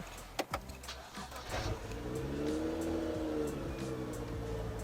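A BMW E82 135i with the N55 engine starts up: a few clicks, a brief crank, then the engine catches and settles into a steady, close idle.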